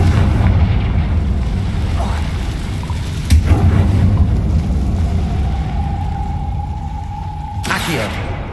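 Confringo blasting spell from Hogwarts Legacy: a sharp magical burst erupts midway over a low game soundscape, then a louder broadband blast closes the moment, both fairly close and punchy.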